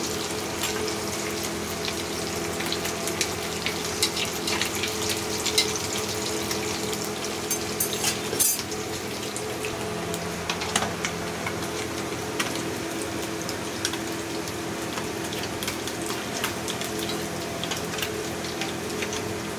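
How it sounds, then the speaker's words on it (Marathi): Fish coated in wheat flour, chilli powder, ginger-garlic paste, turmeric and salt fries in a pan with a steady, moderate sizzle, scattered small pops and crackles throughout and no talking. "बघू शकता मच्छी आपली फ्राय होती आहे आणि अशीच फ्राय करायची"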